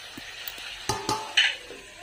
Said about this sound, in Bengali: কিছুক্ষণ এইভাবেই আলু আর টমেটোগুলো ভালো করে ভেজে নেব।